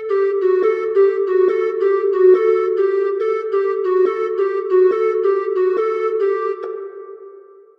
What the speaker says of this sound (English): Next, I added this ocarina from Purdy